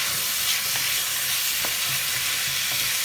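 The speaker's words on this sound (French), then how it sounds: "Hop, on remue." Food sizzles steadily in a hot frying pan while a utensil stirs it, scraping and tapping the pan a few times over a constant hiss, heard close up with no talking.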